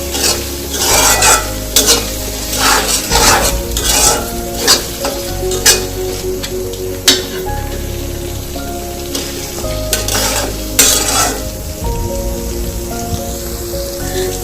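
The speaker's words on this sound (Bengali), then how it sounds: "কিছু পেঁয়াজ দিয়ে দেব। তো আবার একটু নেড়ে চেড়ে নেব" Chopped onions sizzle and fry in a hot pan while being stirred for Singapore-style spicy prawns, with steady crackling and scraping stir strokes throughout, loud and close.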